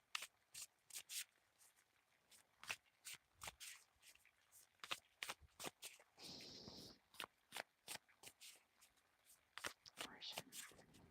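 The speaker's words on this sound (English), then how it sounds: "And then we will shuffle up these cards." Tarot cards are shuffled up close in quiet, crisp riffles and soft slides, irregular bursts with a brief murmured voice partway through.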